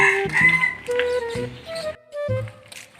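A chicken clucks and squawks close by in a few short, uneven bursts separated by brief pauses.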